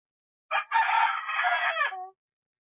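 A Light Brahma rooster at a poultry farm gives one loud, close crow lasting under two seconds, heard alone against silence.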